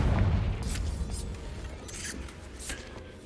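A Confringo fire spell bursts in Hogwarts Legacy, a low booming blast that rumbles and fades, with faint crackling afterward and no talk.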